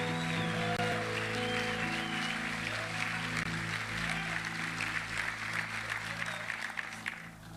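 Church congregation breaks into applause for their pastors, a broad wash of clapping over a sustained musical drone from instruments in the hall.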